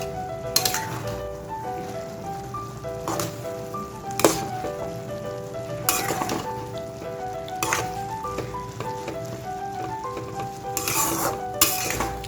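Masala Maggi noodles with vegetables get stirred in a pan: a low sizzle runs under repeated metallic scrapes and clinks of a spoon against the pan, arriving in irregular bursts every couple of seconds.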